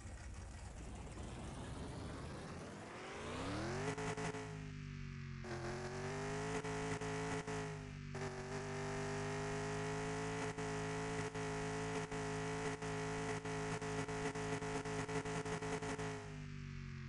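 A car engine in a video game cranks and catches, revs up and then settles into a steady, fairly loud drone that rises and dips in pitch a few times, with no talking over it.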